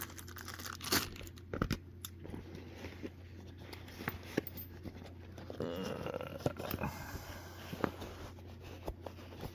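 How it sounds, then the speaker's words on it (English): Plastic packaging is torn open and crinkled close by, with irregular rips, crackles and handling taps over a low steady hum. "Let me take this out of this plastic here."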